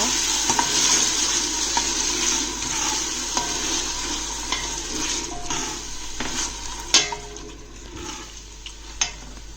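Tomatoes stirred into frying spices in a pan for spinach and chicken curry, a continuous sizzle with repeated scraping strokes and an occasional clink of a utensil, near and clear, without speech.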